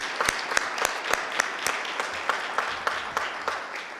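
Audience applause for an honoree at a city Board of Aldermen meeting, a steady wash of many hands clapping, with sharp individual claps standing out and faint talk underneath.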